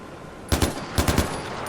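Gunfire in the video game Far Cry 4 comes as two quick bursts of loud, sharp automatic shots, a pair and then a rapid cluster, over a quiet game background.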